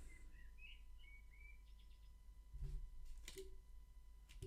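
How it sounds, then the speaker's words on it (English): Birds chirp and whistle outdoors in short, faint, high calls over a low steady hum, with a couple of soft clicks and thumps near the end. "I can hear birds."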